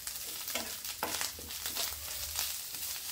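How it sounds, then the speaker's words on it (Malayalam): Two big handfuls of grated coconut roast in a pan for Kerala sadya koottu curry. A dry sizzle carries repeated scraping stir strokes at a fairly regular pace, close and moderately loud. "രണ്ട് വലിയ പിടി നാളികേരമാണ് അത് ചേർത്ത് നന്നായിട്ടൊന്ന് വറുത്തെടുക്കാം"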